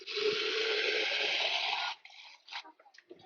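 Water poured into a brine shrimp hatchery: a steady, close gushing pour for about two seconds, then a few trailing splashes and drips as it stops, with no talking.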